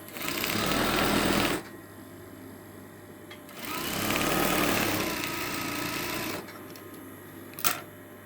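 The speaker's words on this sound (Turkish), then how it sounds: "ortadaki fiyonkları birleştireceğimiz parçayı tersinden dikiyorum" A sewing machine stitches fabric for a bow, running in two long steady buzzing bursts separated by quiet pauses, with a brief click near the end.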